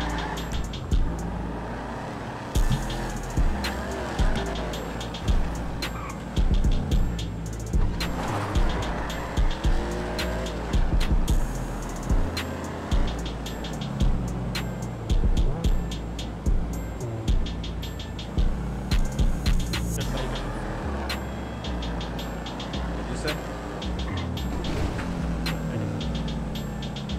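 A Dodge Hellcat in GTA 5 roars loud and close, with repeated hard revs, gear changes and bursts of tire squeal as it races along.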